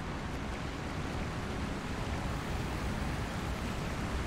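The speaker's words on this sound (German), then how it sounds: "Oh, lautes Wasser wieder." Loud, steady rushing water roars in the video game Lord of the Rings Online, a dense, even wash of noise with no breaks and no talking.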